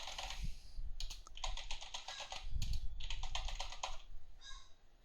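Keys clatter on a computer keyboard as text is typed into a WordPress editor, a quick run of fairly faint, close keystrokes in short bursts with a brief pause midway.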